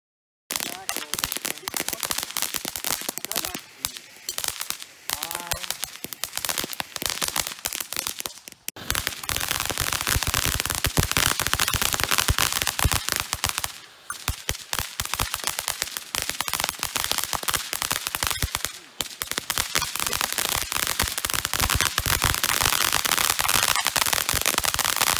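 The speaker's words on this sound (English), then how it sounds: "go over to a bonfire and light up some fireworks" Fireworks and firecrackers set off at night near a bonfire, a dense, continuous run of sharp crackling pops and bursts lasting throughout, with brief lulls, loud and close.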